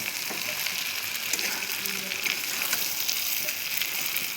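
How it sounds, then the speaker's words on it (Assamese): Garam masala spices fry in a hot pan while being stirred, a dense, steady sizzle close up with faint scraping, unbroken throughout. "মছলাখিনি দি আকৌ অলপ সময় মই লৰাই কেনে ভাজিম।"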